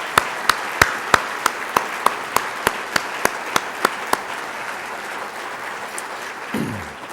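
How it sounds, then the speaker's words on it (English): Crisp, evenly spaced hand claps ring out in a steady rhythm during a State of Utah business address, honoring the staff; about a dozen sharp claps over four seconds, then they stop and leave quiet room tone. "please join me in a round of applause for an incredible job"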